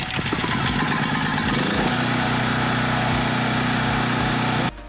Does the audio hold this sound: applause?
no